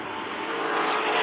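Race cars roar past at Rockford Speedway in a steady, loud engine drone that builds slightly as they pass, with no talk over it.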